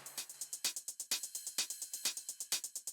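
Techno drum loop run through a drum bus effect, saturated and glued together: a steady, driving pattern of punchy kicks with crisp hi-hats and snappy hits, close and loud, no voices.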